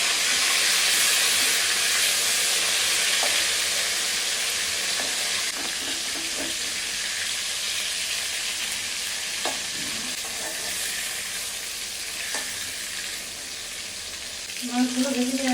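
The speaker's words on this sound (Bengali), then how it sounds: "সাবধানে মাছগুলো ভেজে নিন" Pangas river fish frying in oil, a steady, close sizzle and hiss with occasional stirring clinks that fades slightly, and a brief voice near the end.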